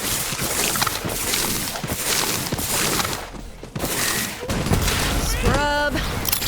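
Borderlands 3 video game gunfire, with rapid clustered shots and bursts broken by short pauses, loud and near, mixed with game effects and a voice talking over it.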